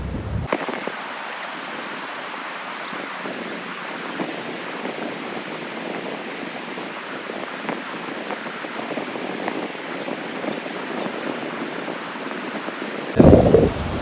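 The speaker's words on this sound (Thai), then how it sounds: "เสียงลมมันแรงมากๆเลยครับ" Strong wind buffets the microphone on the coast along the Great Ocean Road, a steady, dense roar that runs unbroken for the whole stretch with a sharp gust thump at the very end.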